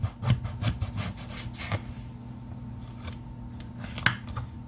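A knife slices an eggplant in half on a cutting board, giving soft rubbing, scraping strokes with a few sharper taps. The cutting is close, moderate in level and irregular in rhythm, with a steady low hum underneath.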